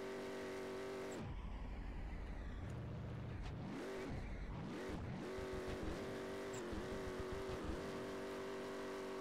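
Car engine in the Drift Paradise racing game revving hard through gear changes while drifting, a loud, steady tonal roar that rises and dips repeatedly with a brief throttle lift midway, no voices.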